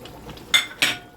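A metal lid goes onto a pan of fish curry in two sharp clinks about a quarter second apart, close and bright against a quiet kitchen.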